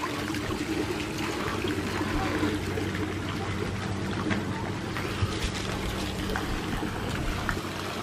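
Fountain water splashes and trickles steadily in an outdoor botanical garden, a continuous wash of water noise with voices talking faintly underneath.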